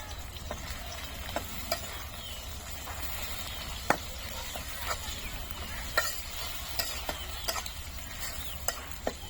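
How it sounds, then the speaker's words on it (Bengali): Onions fry in a pan and are stirred for a fish and potato dish, with a low continuous sizzle broken by irregular scraping and tapping of a spatula at close range. "আমরা এখন পেঁয়াজটা নেড়ে নেবো"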